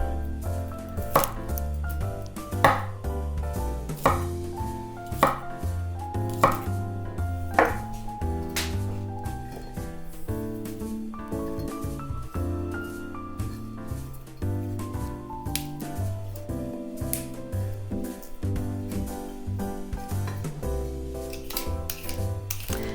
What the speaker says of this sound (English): we'll just cut the broccoli into florets